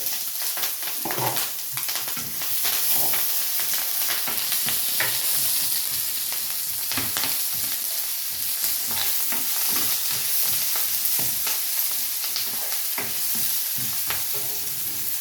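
Chopped onion, curry leaves and two green chilies fry in hot oil in a pan with rampe, giving a continuous close sizzle broken by repeated stirring scrapes, with no voices.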